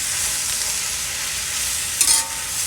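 Fried cabbage sizzles steadily in a pan, a constant frying hiss, and a brief scrape of stirring comes near the end, with no talking.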